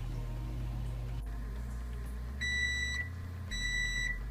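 Two bursts of high electronic beeping from a kitchen timer signal that apple raisin walnut muffins are done, ringing out clearly over a low steady hum.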